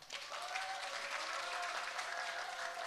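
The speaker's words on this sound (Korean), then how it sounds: "고생했다고, 잘했다고 박수 한번 부탁드립니다." Steady applause from a campaign rally audience at a Democratic Party joint speech event for Gimje mayoral candidates in Jeonbuk, a dense even clatter of clapping filling the room for a few seconds, with a faint sustained tone running underneath.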